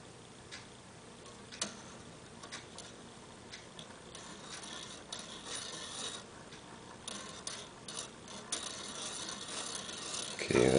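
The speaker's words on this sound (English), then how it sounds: "Now we can see that the mechanism is slowly advancing" Homopolar motor with a five-speed automatic shift mechanism on a coat hanger frame with a battery, quietly ticking and clicking as the mechanism slowly advances, faint irregular ratchet-like ticks close by.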